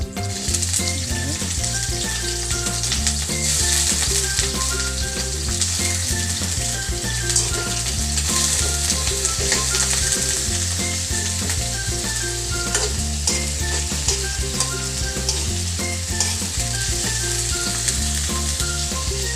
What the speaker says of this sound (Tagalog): Ilalagay na po natin yung hiniwa-hiwa natin atay.